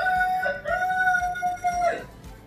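A rooster crowing on a farm in the morning, one loud sustained crow with a rising then falling tone, heard alone.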